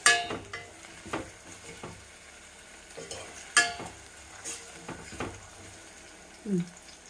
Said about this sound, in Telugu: ఇది బాగా వేగాలి అంటే కొంచెం బ్రౌనిష్గా అయితే బాగుంటుంది